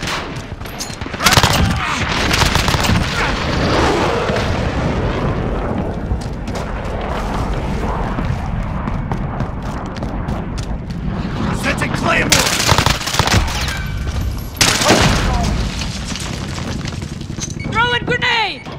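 Heavy artillery strike explosions thunder across a Call of Duty Modern Warfare multiplayer Domination match, with repeated loud blasts and crackling gunfire, and radio voices talking over the battle.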